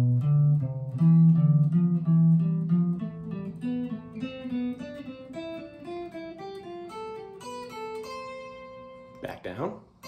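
A single melodic instrument climbs and descends a scale in leaps of a third, each note clear and sustained in an even stepwise rhythm, ending with a brief noisy knock near the close; no one speaks.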